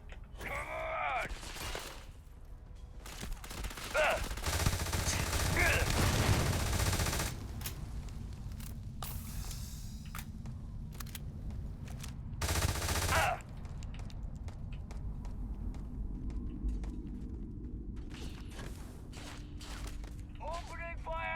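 Gunfire in the video game Starfield, with bursts of automatic fire and single shots spread across the clip among mechanical clatter and impacts, mixed with brief in-game voices.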